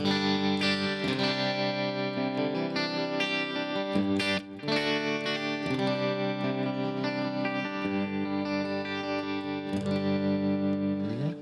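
Kiesel electric guitar in split-coil pickup mode strumming chords with a chorus-like shimmer and light distortion, sustained and steady throughout.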